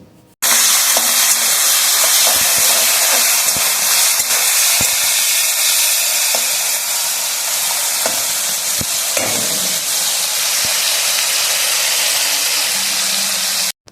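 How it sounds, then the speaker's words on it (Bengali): Loud, continuous sizzling and hissing of prawns frying in hot mustard oil, with occasional faint clinks, and no talking. "প্রথমে আমি চিংড়ি মাছটাকে ভেজে নিচ্ছি"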